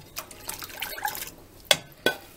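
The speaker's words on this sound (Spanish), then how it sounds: "Y vamos a agregar el resto de del agua." Water poured into dissolved gelatin in a home kitchen, heard as a soft liquid pour and trickle with two sharper splashy drips near the end, quiet and close.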